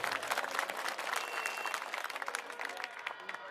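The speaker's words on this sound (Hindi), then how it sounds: "मैं चाहता हूं जोरदार तालियां उनके लिए एक बार आप लोग बजा दीजिए" A crowd at an Aam Aadmi Party rally in Mangolpuri applauds new party members with steady, dense clapping heard from a distance at a fairly low level, with a faint crowd murmur underneath.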